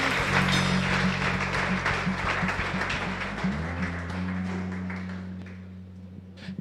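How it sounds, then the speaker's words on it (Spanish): A church congregation at an evening leaders' gathering applauds in praise. Steady clapping runs over sustained low keyboard chords, then thins and fades as the music holds. "fuerte aplauso al Señor"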